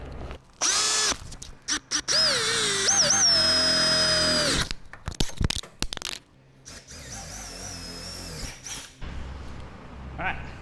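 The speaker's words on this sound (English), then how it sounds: "And I'll drill these 8mm hole." An electric drill boring 8mm holes for mounting a rooftop tent on a Holden Colorado, whining loudly in several bursts of rising and steady pitch, with pauses and some handling noise between.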